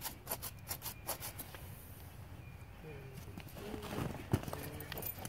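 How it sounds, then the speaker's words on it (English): A rasp files a horse's hoof flat with repeated rhythmic scraping strokes, fairly quiet and close, followed by softer rubbing and a few clicks with faint talk in the background. "we're gonna just rasp everything flat, make sure it's all nice and level looking"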